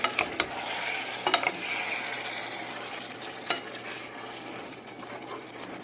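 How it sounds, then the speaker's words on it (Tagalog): Beef stirred in a cooking pot: a continuous soft frying hiss broken by a few sharp clicks and scrapes of the utensil against the pot, heard up close with no speech. "hahaluin ko lang po ito muna"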